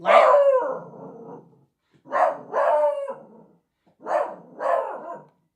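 A dog barks in three separated bursts, each a loud double or drawn-out bark with a howling, whining tail, close by and with no talk over it.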